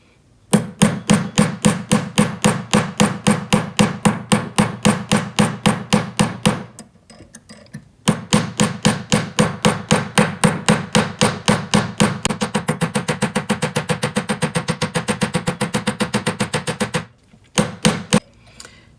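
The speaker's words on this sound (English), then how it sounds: "Now I'm not going to hammer all the way to the end." Rapid, steady metallic hammer strikes ring out in long runs while texturing a wide-band metal ring, pausing briefly twice before resuming, close and crisp.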